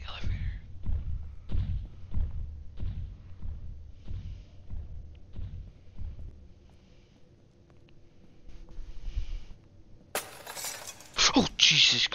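Glass shatters loudly in the Roblox horror game Echoes of Despair, a sudden crash near the end of a stretch of thuds, footsteps and talking.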